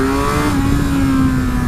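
Kawasaki Versys 1000 motorcycle engine on a test ride, a loud, steady close-up drone holding one even pitch that rises slightly partway through.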